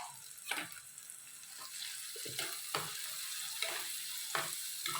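Onion and tomato sautéing with turmeric in a pan for fenugreek (vendhaya) kuzhambu: a low sizzle broken by repeated scraping stirs of a spoon, close and fairly quiet, with no voices.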